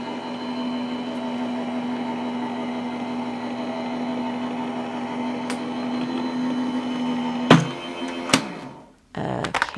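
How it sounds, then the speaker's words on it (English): A die cutting machine rolls layered gold paper stock through with a steady motorized hum and whine. A couple of sharp clunks come near the end before it cuts off abruptly. "And now when I run it through my die cutting machine"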